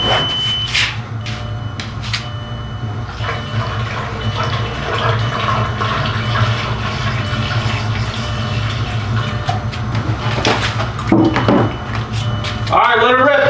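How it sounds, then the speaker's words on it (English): Coolant pours into the engine of a VR6-swapped B5 Audi A4, a steady watery gurgle over a running engine's low hum, with brief voices near the start and end. "Let me also put a little bit of coolant."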